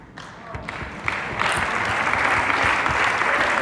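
A conference audience at Influence 2022 breaks into applause that starts sparse and quickly swells into dense, sustained clapping lasting several seconds.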